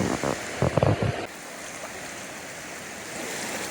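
Hurricane floodwater rushing across a road at a campground makes a steady roar, with a few louder bursts at the start before the flow settles into an even, continuous wash.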